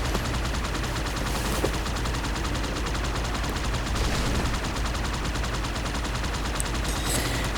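Rapid, continuous gunfire from the Halo 2 video game, a dense and steady barrage of shots that stays loud and unbroken with no voices over it.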